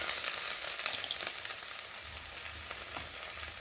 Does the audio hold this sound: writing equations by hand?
no